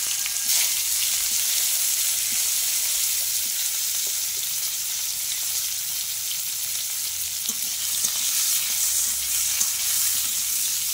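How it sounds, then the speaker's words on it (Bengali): Bitter gourd fries in hot oil after lentil dumplings, a steady hiss of sizzling with small crackles throughout, close and even, with no talking. "এখন আমি এই তেলেই উচ্ছেগুলোকে অল্প করে একটু ভেজে নেব।"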